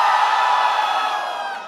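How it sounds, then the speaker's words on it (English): An audience at a live esports finals event roars and cheers for a Terrorblade cosplayer, a loud, dense crowd wash that holds steady and then begins to ease off at the end. "Whoever gives the loudest cheer for the particular cosplayer, we are happy with that"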